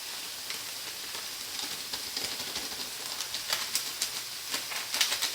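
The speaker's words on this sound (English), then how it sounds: "As soon as you hear your beef or meat that you're going to use sizzle, it's time to give it a little stir." Ground beef browning in a pan for taco night gives off a soft, steady sizzle with scattered crackles and pops that grow busier toward the end. It is fairly quiet, heard close up, with no talking.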